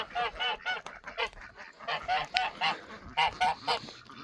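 Geese honking in a pen, a close, loud run of repeated nasal honks in irregular bursts with short pauses between them, with no talk.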